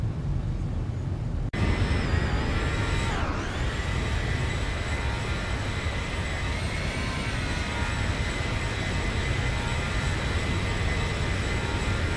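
Exterior jet engine roar of a Boeing 737 BBJ in the X-Plane 11 flight simulator, a loud continuous broadband rumble with a whining tone that dips and recovers, sustained without pause and without talk.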